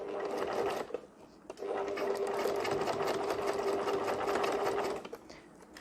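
Sewing machine stitching a beginner's school pencil case, a close steady whir running briefly, pausing, then a longer continuous run, as if sewing forward and then reversing.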